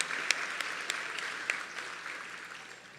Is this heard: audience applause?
yes